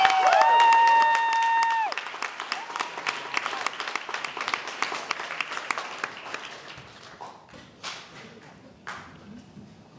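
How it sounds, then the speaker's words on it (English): Comedy club audience applauding as a comedian is introduced, with loud clapping and cheering at first that thins into scattered claps and tapering crowd noise over about ten seconds. "Please make some noise for Mr. Ed Shlesinger, everybody."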